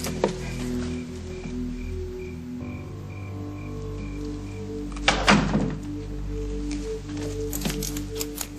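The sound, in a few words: door thudding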